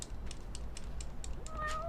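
A cat in the video game Lost Judgment gives a short, faint meow near the end, rising over steady game background sound with a light repeated ticking throughout.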